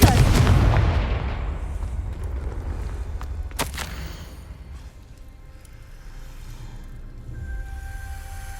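A Confringo spell blast in Hogwarts Legacy goes off as a loud explosive boom at the start and fades into a long rumbling tail, with a sharp crack a few seconds later and no speech.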